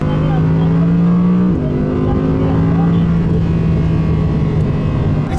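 Audi R8 V10 Plus on the Spa-Francorchamps circuit, its V10 engine droning loud and close, pitch holding, dipping briefly and then climbing again as it pulls through the revs.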